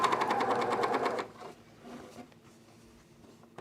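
A sewing machine stitches fabric for Glissando pants in a fast, close, even chatter for just over a second, then stops, leaving quiet handling noises.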